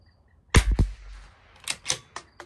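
Rifle shots at a rifle match, comparing Tikka and Bergara rifles: one sharp report with a short ringing tail, followed by several fainter cracks and clicks, fairly close.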